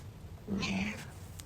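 A single short cat meow, soft and close, over a quiet background.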